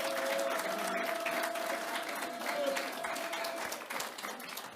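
Applause from a club audience at a Toastmasters officers' address, steady moderate clapping throughout the short stretch with a faint tone and crowd murmur underneath.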